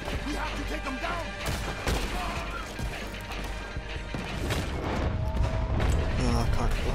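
Gunfire in Red Dead Redemption 2 during a tower fight, heard as a dense clatter of sharp cracks and mechanical rattles over a loud, busy game soundtrack, with voices talking over it throughout.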